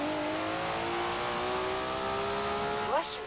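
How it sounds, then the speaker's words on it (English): A modified Datsun in the Forza Horizon 4 racing game revs hard while driving toward Edinburgh, its engine note climbing steadily in pitch before a quick shift and a brief dip. "Never heard a Datsun sound like that, have you?"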